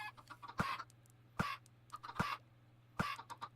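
Minecraft chickens cluck in four short, evenly spaced bursts, quiet and close, with faint game noise between them.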